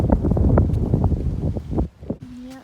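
Gusty wind blowing outdoors during a walk ahead of Hurricane Dorian, a loud, broadband rush across most of the moment, with a brief lull near the end and a faint tone at the close.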